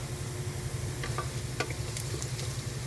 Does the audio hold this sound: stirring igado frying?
yes